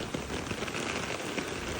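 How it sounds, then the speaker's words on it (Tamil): Rain falls in Germany, a steady broadband patter of drops striking surfaces nearby, continuous and moderately loud with no talking. "இப்போ மழை பெய்யுதுங்க"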